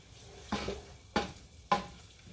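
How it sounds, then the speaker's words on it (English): Vegetables cooking in truffle extra virgin olive oil over a low background hiss, with three distinct stirring scrapes spaced about half a second apart, close and without talk. "So I've added my veggies, and we're going to simmer those good veggies"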